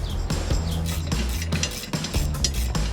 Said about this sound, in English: We're gonna need a 10mm socket and a 5mm Allen wrench.